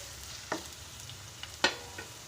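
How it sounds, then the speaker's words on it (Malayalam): Finely chopped onions hit hot oil in a pan for a beetroot curry, giving a quiet, steady sizzle broken by a few sharp scrapes and clatters as a spoon stirs them. "ഉള്ളി നമുക്കൊന്ന് ഇളക്കി കൊടുക്കാം."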